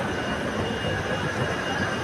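A children's ride train running at an amusement area gives a steady rumble with broadband rail noise, holding at an even, fairly loud level with no breaks.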